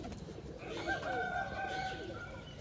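Pigeons released into the sky by a pigeon keeper, with faint overlapping bird calls and cooing over steady outdoor background noise, no talking.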